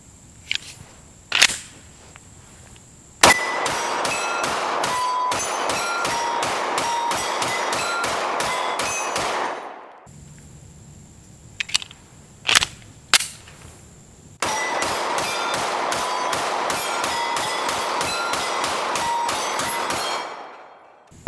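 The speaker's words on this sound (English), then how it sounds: "I started out just shooting, standing here" Canik Prime and Rost Martin RM1C pistols fire at targets from about 16 to 17 yards on an outdoor range, with a few single shots, then long rapid strings of sharp cracks, then another volley after a pause, loud and close.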